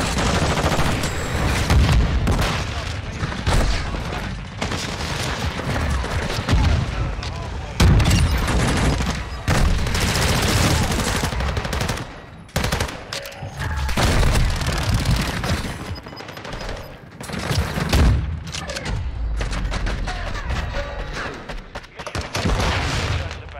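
Rapid, loud shotgun blasts from the Bryson 890 in Modern Warfare 2, fired in dense repeated bursts with brief pauses, mixed with game explosions and effects.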